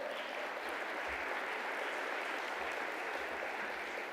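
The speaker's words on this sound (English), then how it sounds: "Can we please give them a collective round of applause?" Faint, distant collective applause from an audience for a panel at a ministerial summit, a steady wash of clapping heard from far off at low level throughout.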